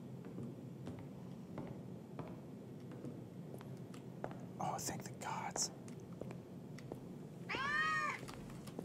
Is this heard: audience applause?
no